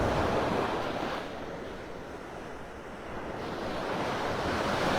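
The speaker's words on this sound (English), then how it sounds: "The water's kind of churned up. The surf has been a little rough." Rough, churned-up ocean surf breaks on a beach at Delnor-Wiggins in North Naples, Florida, a steady roaring wash that dips briefly and then swells again, with wind buffeting the microphone and no voices.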